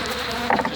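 Honey bees buzzing during installation of a package into a hive, a brief close, steady insect hum with a slight swell near the middle.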